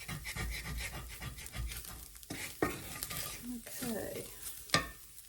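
Milk being poured slowly into a sizzling sausage gravy roux of flour and pan drippings, giving a steady close crackle with stirring scrapes and a few sharper clinks, no voices.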